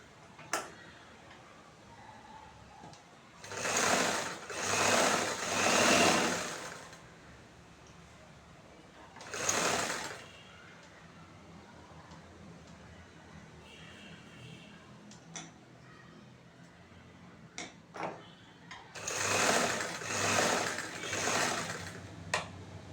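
A sewing machine stitching the hem of a chudithar bottom. Several short bursts of rapid mechanical whirring and ticking run between quiet gaps, close up, with faint clicks and handling noises in between.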